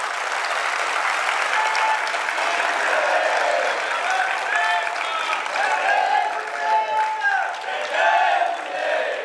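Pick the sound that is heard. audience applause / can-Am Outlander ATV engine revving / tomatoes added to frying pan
audience applause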